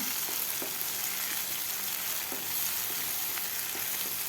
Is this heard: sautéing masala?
yes